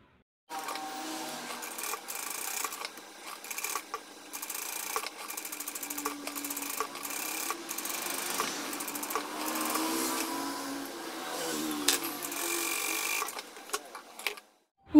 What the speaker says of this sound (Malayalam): ഇനി ഇതിൻ്റെ പറ്റ ചേർത്ത് സ്റ്റിച്ച് ചെയ്യുകയാണ്